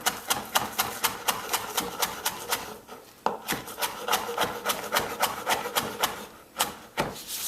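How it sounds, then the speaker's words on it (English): A knife finely chopping scallion tops on a board, sharp rapid regular knocks close by with one brief pause midway before the steady chopping resumes. "I just pretty much want the tops out of these scallions here. And again, a nice fine chop."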